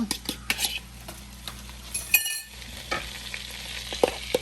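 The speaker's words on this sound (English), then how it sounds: "We're going to have that saute up some." Garlic, onion, carrot, celery and green peppers sauté in a pot for jambalaya, a steady sizzle under repeated spoon stirs and scrapes with occasional utensil clinks, close and clear.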